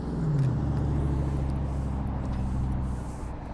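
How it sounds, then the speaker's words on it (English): Cars driving past outdoors make a steady broadband road rumble that runs through the whole clip, with a brief rising engine swell near the start and no talk over it. "It's a lot of background noise because cars are going by."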